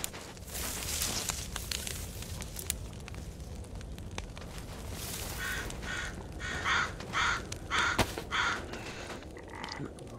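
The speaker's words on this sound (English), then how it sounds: "Look at that damn crow." Crow in the video game DayZ set in winter, giving a series of four or five rhythmic caws in the latter half over a crackling fire-like ambient background, moderately near.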